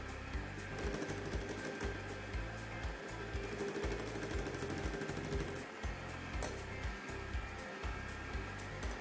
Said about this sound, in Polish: Truskawki wlewamy stopniowo i cały czas miksujemy.